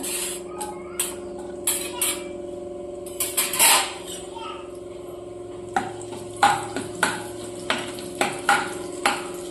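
Chopped onions fry in a pan over a medium gas flame for a brinjal dish, with soft sizzling and intermittent sharp scraping and stirring taps, close by, amid a low background hum.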